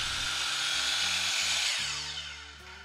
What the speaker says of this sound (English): Slowly lower the saw and cut the PVC pipe.